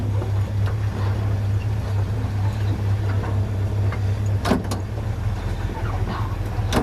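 1967 Pontiac Firebird on its first drive in 25 years, a steady low engine rumble heard from inside the car, continuous and fairly loud with occasional faint clicks.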